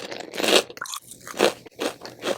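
Crunchy orange snack crackers get bitten and chewed close to the mic in several distinct crisp crunches, each with a pause between, and no talking.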